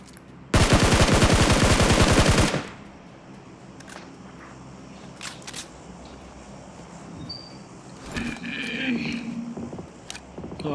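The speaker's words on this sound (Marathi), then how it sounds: "आलं फायरिंग आलं." Burst of automatic gunfire in the PUBG BGMI battle royale game, a loud rapid volley lasting about two seconds, followed by quieter game ambience with faint scattered sounds and some players talking.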